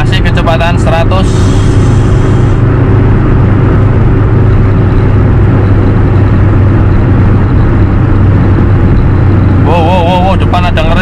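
A 2001 Hyundai Atoz car cruising fast on a toll road, with a steady, loud low engine and road drone filling the whole stretch while someone talks over it.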